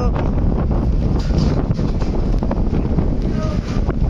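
Strong wind from Cyclone Remal buffets the microphone in a steady roar over the Buriganga River in Dhaka, with broadband hiss from rain, and no speech.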